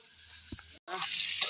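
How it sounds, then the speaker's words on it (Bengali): Potatoes frying in oil, cooked on a clay stove: after a brief knock and a moment of silence, a loud, close, bright sizzle rises and holds steady. "এখানে যে আলুগুলো একটু ভেজে নেওয়া হচ্ছে তেলে"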